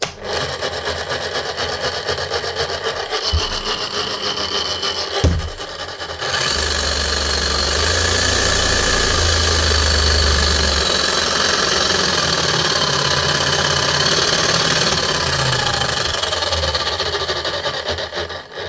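Bosch GSH 11E demolition hammer under repair runs in a loud, steady motor drone with a rasping mechanical clatter, holding at full level for most of the run after a brief dip.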